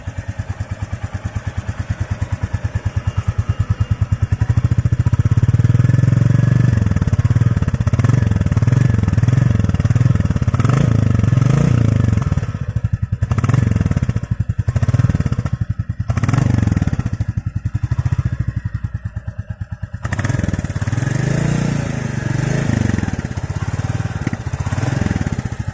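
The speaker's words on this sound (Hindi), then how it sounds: "तो ये है नॉर्मल स्टार्टिंग में क्लासिक 350 का साउंड" A Royal Enfield Classic 350 motorcycle idles loudly and close after starting, its steady thumping single-cylinder beat settling and wavering with occasional revs and a clattering mechanical undertone.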